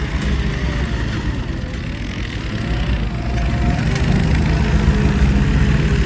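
Kubota L5018 and L4708 tractors run while working piles of earth, their diesel engines making a loud, steady rumbling drone that swells slightly toward the end.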